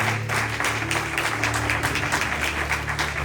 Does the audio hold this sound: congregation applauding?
yes